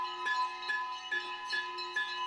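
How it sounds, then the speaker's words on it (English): Temple bells ring at the Vishwanath Mandir ashram, a steady run of sharp metallic strikes about every half second with long bright overtones that hang and overlap. They are close and loud, with no talk. "You can hear the bells"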